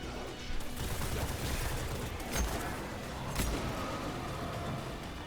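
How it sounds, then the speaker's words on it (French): Assault rifle fire in the video game Destiny 2, a dense, sustained rattle of rapid shots with a few heavier impacts standing out, loud and continuous throughout. "Allez, sors le fusil d'assaut."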